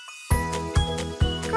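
A cartoon cat meows three times in a kids' baby care video game, bright tonal cries at a steady spacing, close and clear, with a soft jingle at the start.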